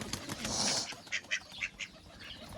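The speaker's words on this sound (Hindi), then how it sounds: "बदक मुर्गे सब आ रहे हैं इधर।" Ducks quacking and fowl calling nearby in a village yard, several short raspy calls in a loose series, fairly faint against an outdoor background.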